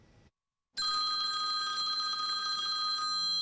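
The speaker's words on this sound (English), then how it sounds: "The phone rang and I answered the phone" A telephone rings with a loud, sustained electronic trill that begins after a short silence and keeps going steadily.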